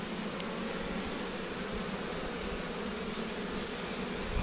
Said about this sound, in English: Just shake those bees off there.